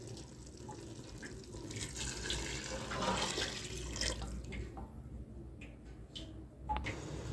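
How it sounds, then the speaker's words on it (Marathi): Hot water is poured into a pot of spicy village-style black mutton curry, a steady splashing, gurgling rush that builds in the middle and thins out toward the end, with no one speaking. "आता याच्यामध्ये आपण हे गरम झालेलं पाणी टाकू"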